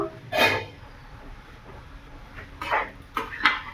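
A metal lid comes off a cooking pot of bottle gourd curry with shrimp, giving a few short clanks and scrapes separated by quiet gaps.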